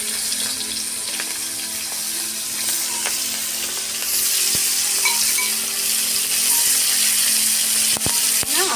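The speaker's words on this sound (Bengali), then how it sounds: "তেল গরম হয়ে গেছে, মাছগুলো এবার ছেড়ে দেবো।" Prawns frying in hot oil in a village kitchen give a loud, steady sizzle throughout, swelling and crackling harder about halfway through as more pieces hit the pan.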